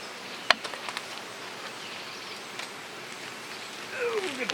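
Honey bees buzzing around a Flow Hive with a laying worker and drone brood in the flow frame: a faint, steady hum with one sharp click early on and a brief chirp near the end.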